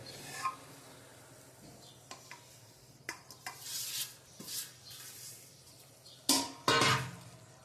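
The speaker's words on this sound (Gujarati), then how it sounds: "હવે આપણે લાપસી ઓરી દેશું" Broken wheat for Gujarati lapsi being tipped into a pot, heard as a few scattered scrapes and clinks with two louder pouring rustles near the end, close and alone without talk.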